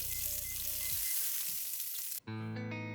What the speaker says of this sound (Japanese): 皮の方は香ばしくカリッと焼けたので一旦引き上げます